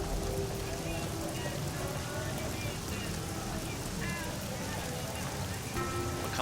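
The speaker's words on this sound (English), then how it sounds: "and now it's raining." Steady rain falling in the video game Fallout New Vegas, a continuous dense patter across the whole stretch with faint game ambience mixed in.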